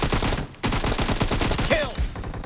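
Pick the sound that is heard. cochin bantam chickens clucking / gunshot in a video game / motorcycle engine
gunshot in a video game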